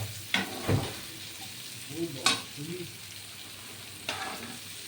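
Green chillies with beans and capsicum frying in a small amount of oil, stirred: quiet sizzling under a few close scrapes and knocks of a spatula against the pan, with brief pauses between strokes.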